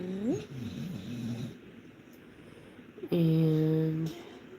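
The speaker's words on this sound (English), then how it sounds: "did y'all hear the dog fart?" A dog whines with rising and falling pitch, then lets out a loud, buzzy, steady fart that lasts about a second, close to the microphone.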